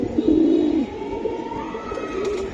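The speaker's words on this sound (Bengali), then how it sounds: "বেজি কবুতর মাশাআল্লাহ" A Beji pigeon giving a close, soft, throaty coo that rolls for under a second, then quieter murmuring follows.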